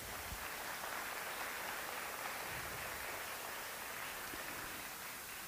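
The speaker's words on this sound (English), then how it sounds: "So please, a round of applause for their contributions to this prize." Steady, dense audience applause fills a room at an art prize awards gala, sustained at an even level without pause and with no speech on top.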